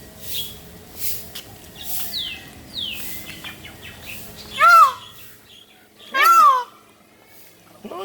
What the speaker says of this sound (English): Another peacock.